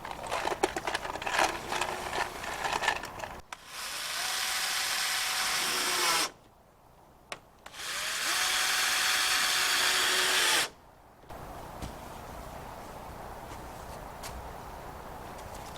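A power drill drives fasteners into a greenhouse window pane, with two sustained close whirring bursts separated by brief silence, surrounded by lighter handling clatter.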